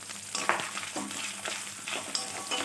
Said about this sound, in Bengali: নারকেলটা অল্প ভেজে দিয়ে দিচ্ছি ধুয়ে রাখা মুগ ডাল